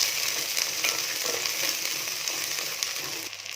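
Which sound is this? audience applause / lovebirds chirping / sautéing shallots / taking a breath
sautéing shallots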